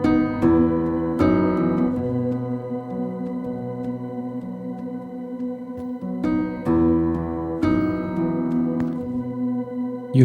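Una Corda felt piano notes played slowly, soft muffled chords struck every couple of seconds with gentle felt-hammer attacks and long ringing sustain, close and alone.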